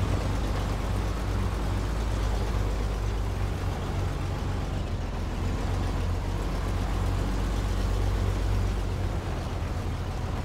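Modded monster truck in SnowRunner labouring up a slope, a steady, dense low engine drone with constant rumble and no change in pace, no voices.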